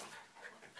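Happy dogs pant in short, soft breathy bursts close by, a quick uneven rhythm with a faint whimper-like tone near the end, no talking over it.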